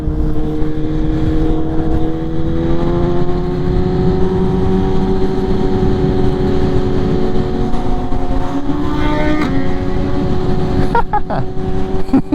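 A roll-racing motorcycle engine roars close and loud, its pitch climbing steadily through several rising sweeps with brief shift breaks, while people talk in the background.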